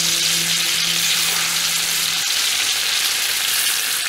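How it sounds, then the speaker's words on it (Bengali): A big piece of fish drops into hot oil at a village cookout in Khulna, giving a loud, dense, unbroken sizzle and crackle that fills the whole stretch, close up and free of talk. "এই বড় এক পিস মাছ নিয়ে নিলাম, তেল আমার গরম হয়ে গেছে, আমি ভাজার জন্য দিলাম।"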